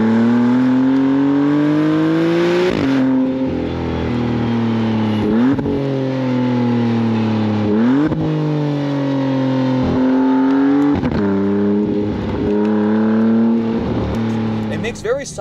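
A Maserati MC20 Cielo engine with a low tone revs repeatedly, rising and falling through several loud pulls, with turbo boost whooshes and blow-off valve chatter between them; a voice talks over it at times.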